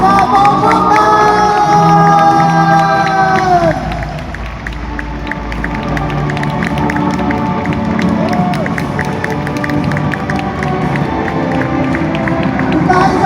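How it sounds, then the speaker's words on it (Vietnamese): Crowd applause and cheering at a stage event welcoming honored guests, loud and sustained throughout, with music and an announcer's voice carrying over the clapping. "Chúng ta hãy dành những tràng pháo tay lớn hơn nữa"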